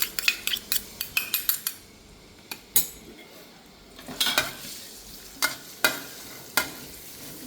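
Garlic and chili stir-fried in about a tablespoon of oil over medium heat: a metal utensil scrapes and clinks against the pan in quick bursts over a soft sizzle, nearby and fairly loud.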